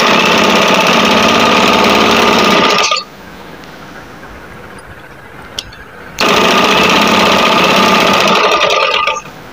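A sewing machine stitching along a fabric edge, its loud steady motor whirring in two long runs separated by a quiet pause of about three seconds.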